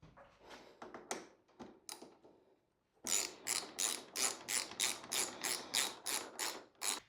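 A ratchet snugs up exhaust bolts on a Yamaha Tenere 700 during a Camel Adv high exhaust install, a few scattered clicks first, then a loud, close run of rapid rhythmic ratcheting bursts.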